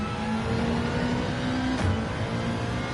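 Engine of a Ferrari race car in Gran Turismo 7 holding a steady high-rev drone, pushed near the limit in a low gear at Red Bull Ring, continuous and fairly loud with a brief whooshing sweep near the end.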